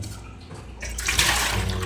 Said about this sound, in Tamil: நல்லா தண்ணியை பிடிச்சிக்கலாம்